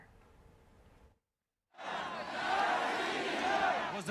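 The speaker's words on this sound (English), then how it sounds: "In Moscow, the crowds chanted "Russia, Russia,"" A large crowd in Moscow roars in unison after a brief silence, a loud sustained chant of many voices that swells and holds, preceded by a faint murmur.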